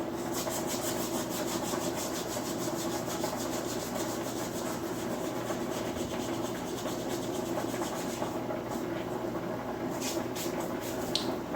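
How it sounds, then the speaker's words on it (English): Dried oregano leaves are rubbed between the palms to crumble them for tomato pasta sauce, making a soft, continuous dry rustling and scratching close up. It is faint and steady, with no voices. "I'm going to actually rub this in my hand here"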